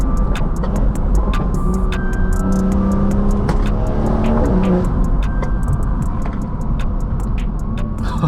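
Car with a B58 engine and FBO exhaust cruising on canyon roads, a steady loud droning engine and road roar with faint ticking clicks throughout, no talk.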